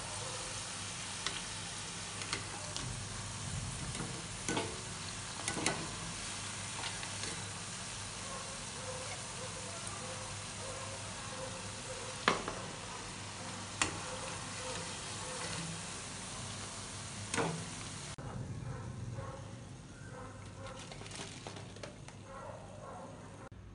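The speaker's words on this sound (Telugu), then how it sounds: "అటు ఇటు తిప్పుకుంటూ డీప్ ఫ్రై చేసుకోవాలండి గోల్డెన్ బ్రౌన్ కలర్ వచ్చేంత వరకు" Potato and onion bajji deep-frying in hot oil give a steady close bubbling sizzle for a long stretch, broken by occasional clicks and knocks as the fritters are turned, with no talking.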